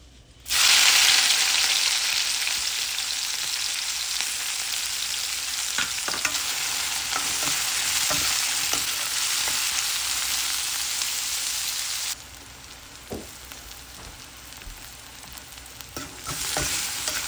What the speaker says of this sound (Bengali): এবার আমি মাছ ভাজা তেলে পেঁয়াজ কুচি দিয়ে দিব